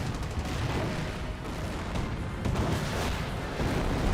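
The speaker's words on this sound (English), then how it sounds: "Incendiary mortar." Incendiary mortar fire in Company of Heroes, with a dense, continuous rumble of blasts and crackling bursts layered over one another, loud and sustained.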